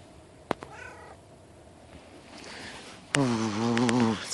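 A friendly cat on a farm meows close by, with a short faint mew early on and then a long, loud, drawn-out meow near the end, set against quiet outdoor ambience and a couple of sharp clicks.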